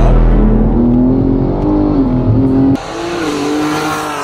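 BMW M3 Competition, a crash-damaged rebuild with switchable four-wheel and two-wheel drive, accelerating hard: a loud close engine note climbs steadily, cuts briefly at a gear change, then resumes climbing.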